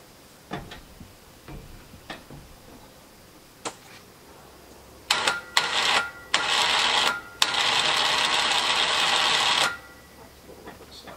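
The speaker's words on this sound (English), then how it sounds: "Here in the front, I am going to use the winch." A winch on a UTV pays out cable for trailer loading, starting with a few scattered clicks and then giving several loud mechanical whirring bursts, the longest running a couple of seconds.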